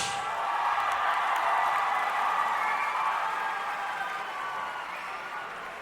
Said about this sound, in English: I think they deserve a louder applause than that